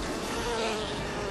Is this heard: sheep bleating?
no